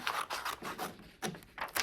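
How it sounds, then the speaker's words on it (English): Scissors snip through paper while a black paper cat is crafted, giving a string of short, close, crisp cuts in an uneven rhythm with small gaps between strokes. "I'm gonna grab my scissors and I'm gonna cut my head out"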